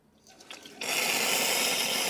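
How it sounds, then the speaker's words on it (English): Water rushes steadily from the group head of a Pasquini Livia 90 espresso machine after a full service and backflush, starting with a few faint drips and then jumping to a loud, even, hissing stream that runs to the end. "Really good water flow."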